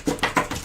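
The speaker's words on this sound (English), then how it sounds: "pardon my dog, if it continues to make this noise" Dog making small repeated noises indoors during a live basketball watch party, a few quick soft yelps or whimpers in a short rhythmic burst, close by.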